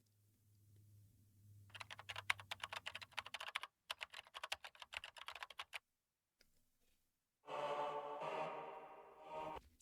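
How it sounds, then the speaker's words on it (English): Rapid tapping on a computer keyboard comes in quick clattering bursts, pauses briefly, then resumes, close and fairly quiet, with no voices. "the tapping noises from the keyboard reminds me of something"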